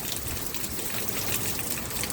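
Rain spills past an overflowing roof gutter, making a steady, close splashing and gushing of water with fine drip detail throughout.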